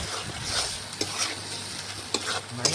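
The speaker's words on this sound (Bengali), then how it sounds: "এখন আবারও নাড়াচাড়া করে মটন কিছুক্ষণ কষিয়ে নেব মশলার সাথে।" Mutton being stirred and fried with spices in a pan for biryani: a continuous sizzle with spatula scrapes and clinks every second or so, heard close up and with no talking.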